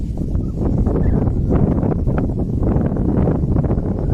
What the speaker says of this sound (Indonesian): Agak berangin